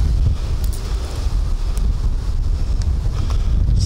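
Strong gusty wind buffets the microphone out on lake ice during ice fishing, a loud continuous low roar with rushing bursts and no speech.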